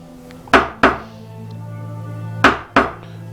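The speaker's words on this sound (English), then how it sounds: "And chopping out the dovetails that I had just cut" A chisel struck with a mallet while chopping out wooden dovetails for a chest drawer, with the cutoff supporting the work, four sharp close thunks in two pairs, each ringing briefly, alone without talk.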